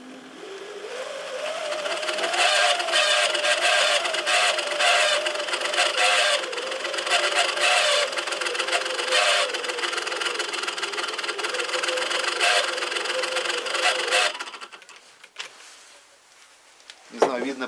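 An electric drill spins a small motor rigged as a 5 W wind generator, giving a steady whirring whine that holds for about fourteen seconds, then winds down and stops near the end.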